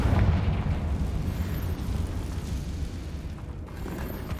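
Confringo blasting spell in the game Hogwarts Legacy, a loud rumbling explosion that booms at the start and decays into a long, steady low roar.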